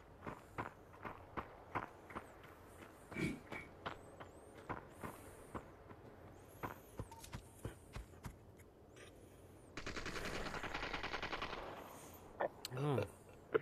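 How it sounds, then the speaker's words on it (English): Gunfire in the VR battle royale Population: One, a string of sharp, evenly spaced shots and bursts from somewhere nearby, with a denser stretch of sustained firing toward the end. "Somebody's shooting off over here."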